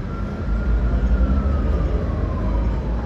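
An ambulance siren wails faintly in the distance, its tone slowly drifting, buried under loud rumbling traffic and street noise near Victoria Park, Hong Kong.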